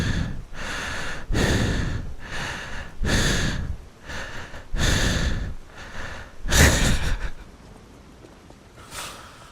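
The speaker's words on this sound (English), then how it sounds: "you just listen to me silently breathing into the microphone" Slow, heavy breaths into a close microphone, about eight loud inhale-exhale cycles in a steady rhythm, the last ones fainter and spaced apart, with no talking.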